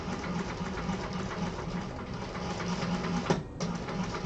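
Sewing machine running continuously to stitch an extra row into a seam allowance on an exterior fabric piece, a loud, close, even mechanical whirr with a rapid needle rhythm, with a brief knock near the end.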